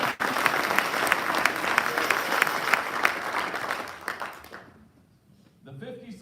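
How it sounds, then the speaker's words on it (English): Applause from an audience at a military wing quarterly awards ceremony, a sustained round of clapping that fades out near the end before a voice begins speaking. "Let's have another round of applause for all of our Field Grade Officer category nominees."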